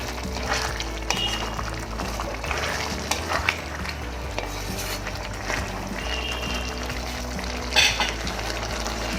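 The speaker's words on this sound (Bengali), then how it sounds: "নুন দিয়ে ভালো করে লাউয়ের সাথে মিশিয়ে নেব।" Bottle gourd and prawns being stirred with salt in a hot pan, a steady sizzle under repeated scraping strokes of a spatula, with an occasional metallic clink near the end.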